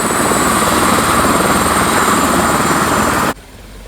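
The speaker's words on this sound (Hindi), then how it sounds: "पहली बार सौरभ ने अपने सामने ये हेलीकॉप्टर देखा।" A helicopter at the Palm Jumeirah helipad in Dubai roars loud and close with a steady rotor and engine drone that cuts off abruptly near the end.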